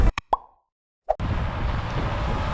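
Land Rover Defender door pulling itself shut with its soft-close mechanism: a few quick clicks, a brief pause, then a muffled latching thunk followed by steady background noise.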